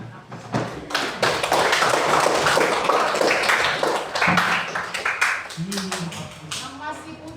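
A classroom audience applauds during a school guidance counseling session on managing emotions, with dense, steady hand clapping for several seconds that thins out toward the end, with voices around it.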